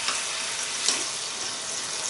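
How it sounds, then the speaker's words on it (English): Steady, dense sizzling of bacon frying in a pan, a continuous crackling hiss with small pops, close and fairly loud. "It's sizzling away."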